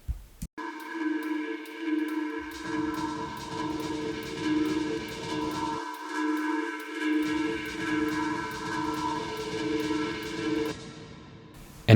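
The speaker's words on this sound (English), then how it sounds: "And now we will hear the comparison to when I activate the reverb." Modular techno mix with reverb applied to nearly mono hi-hats: sustained droning chord tones over steady ticking hats, a low kick pattern that drops out twice, and a fade near the end.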